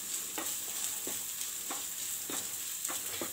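Potatoes mixed with salt in a hot pan, a quiet steady sizzle under repeated spatula scrapes, roughly one stir every half second; no one speaks.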